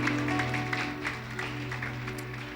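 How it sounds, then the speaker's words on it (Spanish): Applause from a church congregation during a service, a steady soft patter of many hands clapping at moderate distance, with a low sustained organ or keyboard tone running underneath throughout. "Demos un aplauso a Dios por la vida de Christopher"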